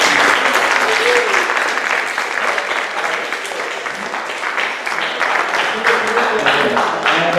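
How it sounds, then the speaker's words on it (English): A large audience at a book reading applauds continuously, dense loud clapping throughout with faint voices mixed in. "So I want to give them a round of applause."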